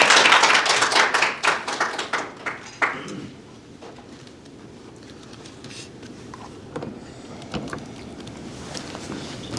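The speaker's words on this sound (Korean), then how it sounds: "네, 박수로 맞아주시기 바랍니다." An audience claps to welcome a professor to the stage at an AI leaders' forum. Dense applause fills the first three seconds, then thins into scattered claps and quiet room noise.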